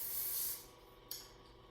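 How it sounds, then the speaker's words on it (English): Cooking spray from an aerosol can hisses in a short, faint burst onto a foil-lined baking tin, followed by quiet and one small tap. "when you are spraying, put your tin upright and do the light coating"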